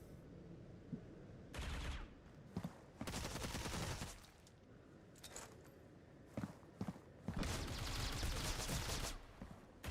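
Gunfire in a professional league video game match, including shots fired through a wall: loud clustered bursts of rapid shots separated by brief quieter gaps with faint movement sounds in between.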